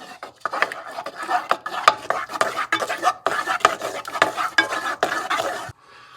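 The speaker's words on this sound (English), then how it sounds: "Mix it in really, really well." Cheesecake brownie batter with tempered eggs being mixed in a bowl, a close run of scraping, sloshing stirring strokes in a steady irregular rhythm, loud and without talk, ending in a brief quiet.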